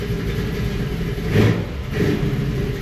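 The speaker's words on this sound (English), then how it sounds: "I'm going to blip the throttle hard and see what happens right now." A running engine hums steadily, then briefly rises in two quick throttle blips before settling back to idle.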